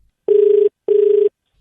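A telephone ring-back tone sounds while a call is redialed: two identical, evenly spaced buzzing rings, loud and clean, with silence between them.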